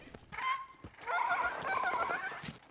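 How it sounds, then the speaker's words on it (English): An ostrich horse mount from the 2024 live-action Avatar: The Last Airbender series neighs in two close, fairly loud whinnying calls, a short cry followed by a longer wavering one, with no talking over them. "I love the ostrich horses."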